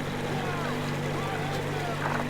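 A boat engine drones steadily in Metro Exodus, a constant low hum with a tonal whine and wash of water noise running unbroken throughout.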